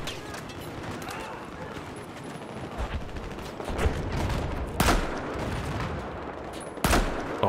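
Gunfire in the video game Battlefield 2042, a dense clatter of shots with a few sharper cracks standing out near the end, heard over busy battle ambience.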